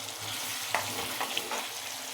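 An onion and tomato gravy simmering in a pan, with a steady sizzling fry and a few brief stirring clicks, close and fairly quiet, with no voices.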